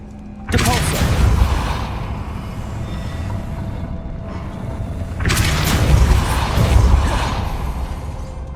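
A Depulso spell fired in Hogwarts Legacy lets out two loud booming blasts, each followed by a sustained rumbling roar. The first comes near the start and the second about five seconds later.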